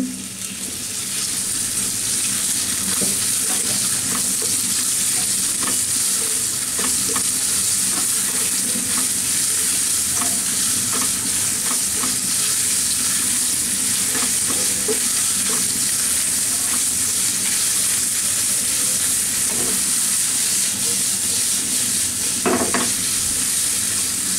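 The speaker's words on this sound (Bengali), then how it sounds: "এখন মেখে রাখা গরুর মাংসগুলা দিয়ে দিচ্ছেন।" Marinated beef with grated garlic stir-fries in a hot pan for Thai sweet and sour beef, a loud continuous sizzle broken by repeated stirring clatters and scrapes, close up, with no speech.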